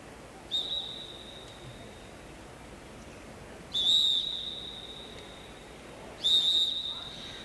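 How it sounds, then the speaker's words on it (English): At a track cycling race during the national championships, a referee's whistle sounds three times, each a steady shrill blast of about half a second, standing out clearly over a low, quiet background. "Whistle's gone, riders come back to the home straight."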